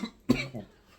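A single hard, harsh cough bursts out close by, followed by a brief rasping tail as the throat settles after sampling a strong fragrance.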